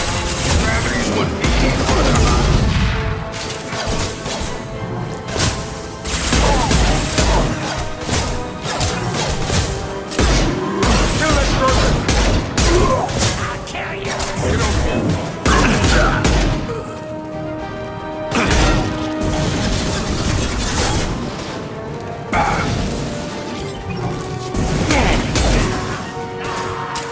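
Heavy gunfire in Mass Effect 2 rattles in dense bursts of cracks, crashes and thuds, loud and nearly continuous, with music and combat voices mixed in throughout.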